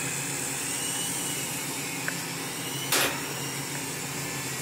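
Blade Scout CX radio-controlled helicopter flying indoors, a steady faint whirring whine of small rotors and motor with one brief sharp knock partway through.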